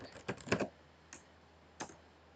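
Short bursts of key presses on a computer keyboard while filling in a school report application form, a quick cluster of taps followed by two isolated keystrokes, close and quiet.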